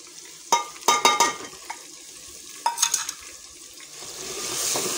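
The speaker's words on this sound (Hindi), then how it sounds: "तो अब इसमें डालती हूँ लहसुन अदरक सब्ज़ मिर्चों का पेस्ट और" Onion, garlic-ginger-green-chilli paste and tomatoes frying in a pan for Punjabi wadiyan, with faint background sizzle, a few bursts of clattering stirring and scraping, and a rising hiss toward the end.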